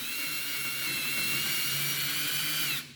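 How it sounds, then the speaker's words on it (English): A combined drill and tap bit bores a hole into the dashboard of a Jeep JL, a close, steady high-pitched whine that runs for nearly three seconds and then stops abruptly. "So once the drill goes through, the tap starts."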